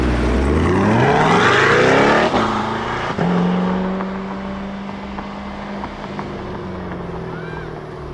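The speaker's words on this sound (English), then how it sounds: "Now we are in sport mode, and this is what the car sounds like when you're driving in sport mode." Corvette C8 engine in sport mode, revving up loudly through the gears at first, then settling into a steady, lower drone as the car cruises, with harmonics rising and falling and no talk over it.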